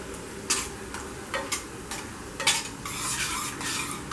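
Whole cumin seed, four cloves, cardamom and a cinnamon stick heating in a pan, a light sizzle under repeated metal spoon scrapes and taps against the pan, close and fairly loud.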